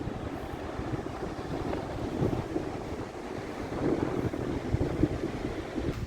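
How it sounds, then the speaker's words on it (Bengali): Sea waves and wind at Mandarmani beach, just after sunrise. A steady rush of surf blends with wind buffeting the microphone, with no voices. "এই হচ্ছে সমুদ্র, তোমার আমার সবার প্রিয় মন্দারমণি।"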